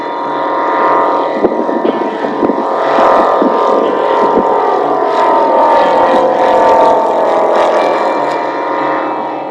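A light training aircraft's piston engine and propeller rumble steadily as it taxis out toward runway 05 and builds power, a loud continuous drone that swells slightly and stays close throughout.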